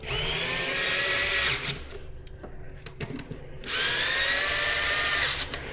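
A power driver screws screws into a plastic back box for a 65-inch Samsung The Frame TV install, whirring in two close, loud runs separated by a short pause with light clicks.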